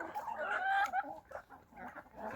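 Crested hens and roosters cluck in a farmyard flock. A loud, drawn-out call comes first, followed by quieter scattered clucks close by and no talking.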